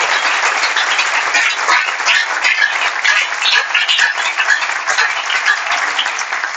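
A church congregation at a Sunday worship service applauds in a steady, dense wash of clapping that holds loud and even for several seconds, with no talking over it.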